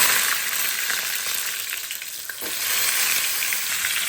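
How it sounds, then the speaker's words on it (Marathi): Oil-filled pan with masala-stuffed brinjals, mustard seeds and curry leaves, giving a loud, constant frying hiss and crackle that runs steadily throughout, with no voices. "तेलामध्ये वांगे सोडले आता भरलेले"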